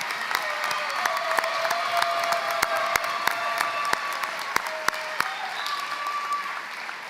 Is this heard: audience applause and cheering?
yes